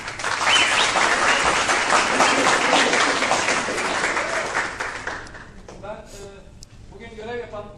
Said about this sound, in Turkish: Burada alkışlayalım.